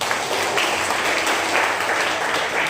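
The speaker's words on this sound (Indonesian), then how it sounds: "Tepuk tangan dulu lah." Audience applause at the close of a church gathering, a steady, dense wash of many hands clapping at even loudness throughout, with no voices over it.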